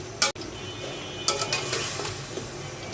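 A rohu fish head hits hot fried spice masala and sizzles with a steady crackling hiss. A sharp clank of a utensil sounds near the start, followed by a few soft scraping stirs.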